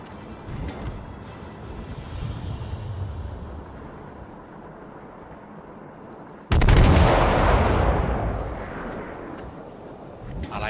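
Heavy cruiser Myoko's guns in World of Warships, a distant rumbling boom, then a sudden loud close salvo blast that decays slowly into a long roar, under a low engine rumble.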